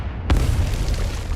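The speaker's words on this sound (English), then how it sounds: "An explosion from the forest?" A single loud, close explosion booms in the video game Arknights, followed by a dense rumbling tail that fills the rest of the moment.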